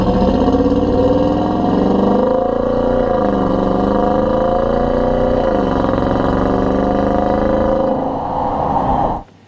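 A 2015 Dodge Durango R/T's deep, throaty V8 exhaust drones loudly as the engine pulls, its pitch dipping and rising twice before cutting off at the end.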